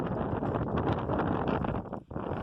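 Strong outdoor wind buffeting the microphone on a rocky fossil-hunting site among boulders, a loud continuous rumbling roar with a brief dip near the end.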